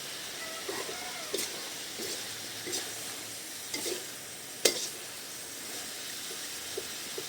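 Meat goes into a pan with bitter gourd, giving a soft steady sizzle with scattered scrapes and clinks of stirring, moderately faint and with no voices.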